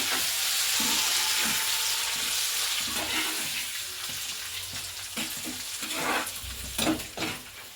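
Tempering spices and curry leaves crackling and sizzling in hot oil, with a spoon stirring and knocking against the pan several times, close by and without any voices.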